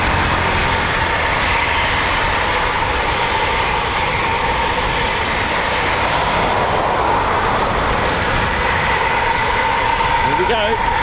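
A 29 Squadron Eurofighter Typhoon FGR4 departing RAF Coningsby, a loud, sustained, dense jet engine roar that stays powerful throughout, with voices faintly underneath.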